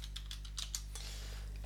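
A few quiet keystrokes tap on a computer keyboard while a field name goes into a form builder, a light scatter of clicks over a steady low electrical hum, with no one speaking.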